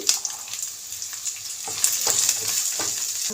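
Curry leaves, green chillies and fresh peas frying in hot oil for avalakki, a close crackling sizzle with sharp spits and light stirring scrapes, no talking.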